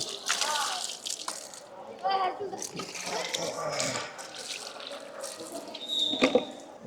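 Water is poured over a person being bathed, splashing and trickling in uneven bursts close by, with people talking throughout.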